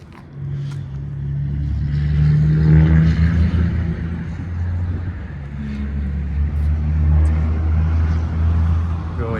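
A 2007 Mercedes-Benz E350 sedan engine turns over on a cold start and settles into a low, steady rumbling idle that swells slightly, heard nearby with no talk.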